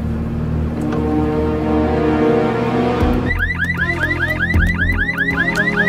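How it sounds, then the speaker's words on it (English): An engine hums before a car alarm blares out, cycling through rapid, repeating electronic whoops and chirps, loud and close. "You always call 911 when you hear a car alarm go off?"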